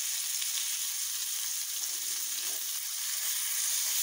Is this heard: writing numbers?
no